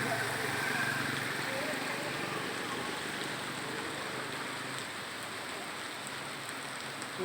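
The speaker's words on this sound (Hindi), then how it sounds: "इतनी अच्छी बारिश हो रही है ना, इतनी मज़े की बारिश हो रही है सुबह ही सुबह," Heavy rain pours during a morning thunderstorm in Karachi, a dense, steady hiss of falling water that stays loud and even from start to finish.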